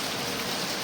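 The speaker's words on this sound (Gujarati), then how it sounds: "તો કેવો વરસાદ આવે છે હવે જોઈએ આપણે." Light rain falls in a steady, even hiss with no breaks, heard close and alone.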